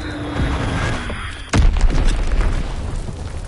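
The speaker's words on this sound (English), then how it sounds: "Enemy bomb incoming." An enemy bomb detonates in a WW2 video game: one sudden, loud, booming blast cuts through steady battle noise and leaves a rumbling tail.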